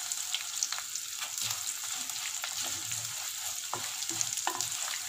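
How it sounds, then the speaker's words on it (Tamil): Chana dal sautéing in a pan, a steady close sizzle with soft scraping stir strokes scattered throughout, no voices. "ஒரு 2 நிமிஷம் நல்லா வதங்கணும்"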